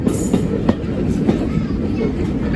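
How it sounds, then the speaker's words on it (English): A heritage railway train on the Great Central Railway rolling onto a double line section, wheels clicking over rail joints in a faint rhythmic clatter beneath a steady low rumble of running noise. "obviously the joint between the tracks"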